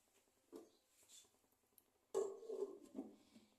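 A metal lid is set onto a pot of chicken biryani, with a light clink followed by a louder clatter and a brief rattle as it settles, fairly close and quiet.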